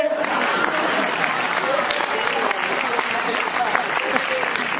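An audience breaks into sustained applause, a dense wash of clapping that stays fairly loud and even for several seconds.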